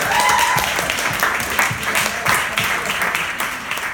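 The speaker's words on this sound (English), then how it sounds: "round of applause for Rhonda" Audience at a spring benefit event for teachers applauding an honoree, a full steady crowd of clapping hands, fairly loud and sustained for several seconds with a brief tone and faint voices underneath.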